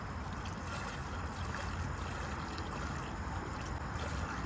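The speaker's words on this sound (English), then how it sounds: "I'm going to put 1 gallon gasoline. It goes here." Fresh gasoline pours steadily from a one-gallon container into the fuel tank of a STIHL 18-inch chainsaw, a continuous close liquid gurgle and trickle with no talking.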